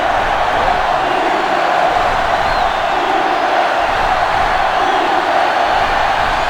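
A loud sellout stadium crowd at a football game keeps up a steady, dense roar with no breaks, filling the whole stretch evenly and staying close and overwhelming throughout.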